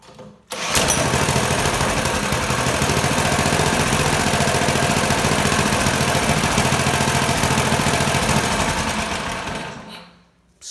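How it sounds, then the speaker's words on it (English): A cheap go-kart's small engine idles steadily, a loud, rapid buzzing putter held close for about ten seconds before cutting off. "Starts super easy and idles just fine."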